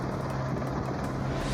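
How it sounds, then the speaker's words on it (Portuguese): A helicopter during a river rescue of elderly people on the Taquari River gives off a loud, steady rotor and engine drone with a low hum, heard alone without any voices. "idosos e uma pessoa com deficiência foram retirados de helicóptero"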